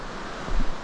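Running water of a mountain creek along a forest hiking trail, a steady close rush of broadband noise with a slight swell toward the end.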